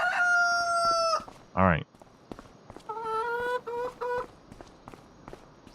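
Chickens in the farming game Farming Simulator 25 give several harmonic calls and crowing cries, loud and close, with a short low burst between them and a brief voice speaking.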